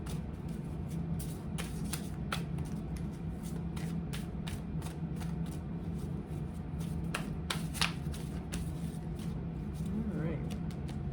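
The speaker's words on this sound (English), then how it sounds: "And I'm going to pull 2 cards." Tarot cards are shuffled and pulled by hand, giving soft repeated riffling and flicking bursts close by, with low steady room noise beneath.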